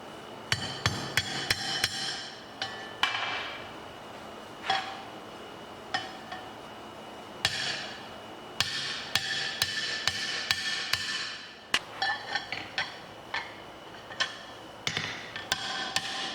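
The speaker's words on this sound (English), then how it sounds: "Just 1, maybe 2 hammer hits, and that's it." Sharp metallic hammer strikes ring out while the handle is set on a hand-forged campfire skillet, coming singly and in quick bursts and clusters, loud and close with ringing decay between blows.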